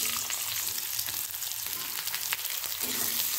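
Onions go into hot oil in a heated wok for peyaj posto. A loud, continuous close sizzle and crackle carries faint stirring scrapes, with no one talking.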